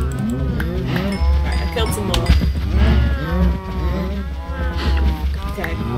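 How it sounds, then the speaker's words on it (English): Many Minecraft cows moo in overlapping, drawn-out calls, a dense crowd of lowing close together in an enclosure, with a voice speaking intermittently over them. "but my god, there's so many cows"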